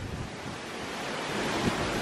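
Hurricane Irma's wind gusts roar at Jupiter, Florida, a steady broadband rush that builds toward the end with microphone buffeting, like surf, and no talking.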